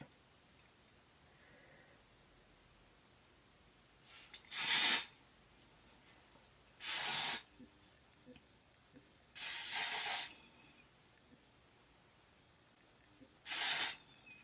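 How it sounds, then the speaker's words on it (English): A spray bottle mists onto the lace of a layered wig unit in four short, crisp hissing bursts, evenly spaced with quiet pauses between them, close and fairly loud. "we're going to take that same spray and go ahead and put it directly on our lace"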